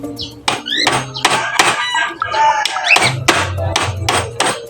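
Nails hammered into a wooden bed frame in a small hut, a run of sharp, close, loud hammer blows in an uneven rhythm, with chickens clucking faintly in the background.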